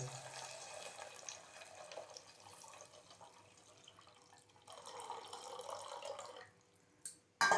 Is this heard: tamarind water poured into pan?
yes